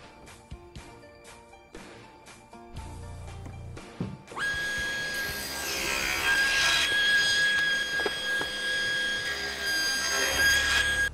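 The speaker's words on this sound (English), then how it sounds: "we can reference these sides to the table saw fence and cut them at 1¾ inch" A table saw rips a walnut blank to 1¾ inch against the fence. A few sharp knocks and clunks come first, then a loud, sustained whining cut with shrill tonal ringing that lasts to the end.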